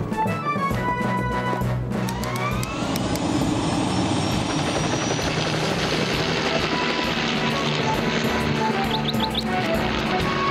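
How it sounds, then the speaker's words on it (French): A cartoon helicopter flies in a mountain rescue scene, its loud rotor and engine drone continuous and close, with faint chirps and other effects mixed in. "Je prends l'hélicoptère."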